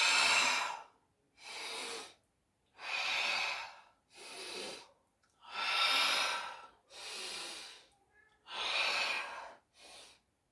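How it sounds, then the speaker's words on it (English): Close, steady breathing with about eight alternating in and out breaths, each lasting around a second and separated by brief silences, loud and airy with no talk. "Do you breathe in and out on different actions?"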